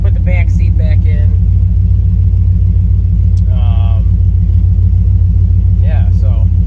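An older car with a newly installed dash idles with a loud, steady low rumble close by, while someone speaks intermittently over it.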